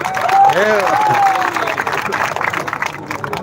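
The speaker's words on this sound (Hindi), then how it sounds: "इसलिए गौतम के लिए एक बार ताली हो जाए।" A crowd at a meeting claps for Gautam, a loose, continuous patter of hands in a reverberant space, while a voice speaks over the start of it.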